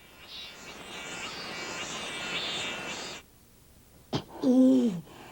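A steady, buzzing cicada drone fills the first few seconds and then cuts off, followed by a sharp click and a brief squealing voice.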